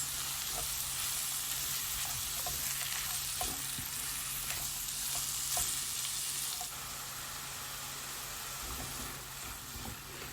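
Onion frying in a pan for slaw, a steady loud sizzle with faint crackles that carries on unbroken and drops a little partway through.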